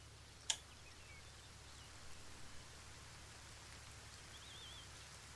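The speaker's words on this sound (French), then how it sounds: "Et il commence à pleuvoir." Rain beginning to fall in the military video game Arma 3, a faint, even hiss of light rainfall with one sharp tick near the start and a few soft taps later, no voices.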